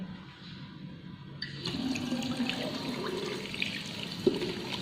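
Soapy hands being rinsed under a running tap, with water splashing steadily up close. The flow grows fuller partway through, then keeps pouring, with no talk.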